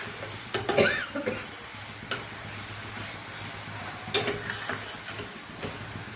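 Chilli masala for a village-style vajdi dish roasting in a pan, with a low steady sizzle and a few sharp spoon scrapes and taps as it is stirred, close and fairly quiet.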